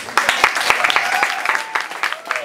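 An audience at a high school spring songwriters showcase claps for a freshman performer, with scattered, uneven hand claps and a few voices or whoops over the top.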